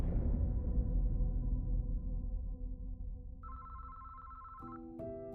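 A telephone rings in a dramatic story sound effect, with a sustained electronic ring tone that enters over a fading low drone and then steps into a pair of higher and lower tones near the end.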